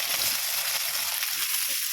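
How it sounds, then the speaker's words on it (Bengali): Chopped onion frying in hot oil for a home-style chicken biryani, a steady, fairly close broadband sizzle that holds evenly for about two seconds with no voices. "পেঁয়াজটা দিয়ে দিচ্ছি ভাজার জন্য"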